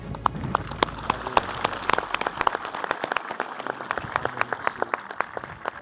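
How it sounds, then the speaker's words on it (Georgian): Crisp, scattered applause from soldiers in an army unit welcoming YouTuber guests, individual claps spiking distinctly over a light room murmur and continuing steadily to the end. "მივესალმოთ მათ ტაშით და"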